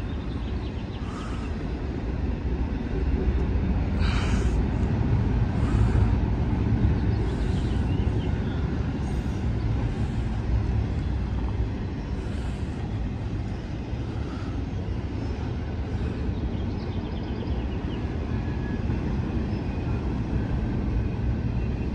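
A Union Pacific freight train rumbles past at Fruitvale, Oakland, California, a heavy continuous low roar with faint clanks that holds steady for a long stretch.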